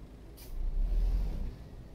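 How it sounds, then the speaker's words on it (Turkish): A Scania truck's air brake gives one short, sharp hiss, followed by a low engine rumble that swells and then settles. "Şu frene bak oğlum. O ne biçim fren ya?"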